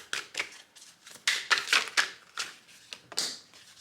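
Tarot cards slide and snap as they are drawn and shuffled from a deck, a close run of crisp papery flicks and rustles in uneven bursts, with no talking over them.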